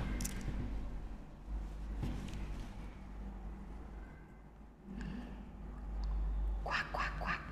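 A child imitates a duck, repeating quacking calls in a rapid little run near the end over steady background hum.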